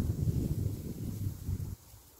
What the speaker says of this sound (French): Ce petit vent léger